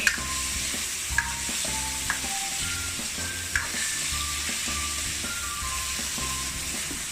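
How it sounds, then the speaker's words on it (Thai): Lao jaew chili paste for khanom jeen being stir-fried in a pan, with a steady loud sizzle and regular scraping strokes of the spatula repeating about once a second, with no talking. "เขาจะเอามาคั่วให้มันหอมเฮ็ดให้มันเป็นตาแซ่บหลายขึ้น"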